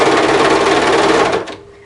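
A serger runs a steady, loud, close mechanical buzz while sewing a cardigan seam, then stops abruptly near the end.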